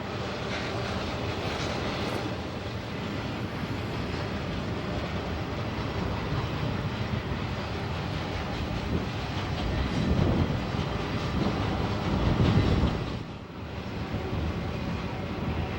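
A BNSF freight train hauling containers, including J.B. Hunt boxes, rolls through Cajon Pass, a sustained rumble and rattle of cars passing steadily at middle distance and swelling briefly louder near the end.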